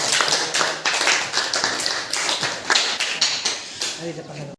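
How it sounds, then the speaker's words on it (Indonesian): A classroom of students applauding, a brisk burst of many hands clapping fairly close for several seconds, with a few voices mixed in. "Oke, tepuk tangan."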